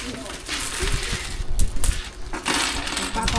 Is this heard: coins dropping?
yes